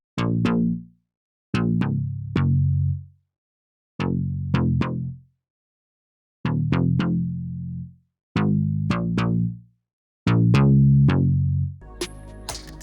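Short, gritty synth bass notes from an MKS-style bass preset, played alone in clipped phrases of two or three notes separated by brief silences, with a fuller chordal hit at the end.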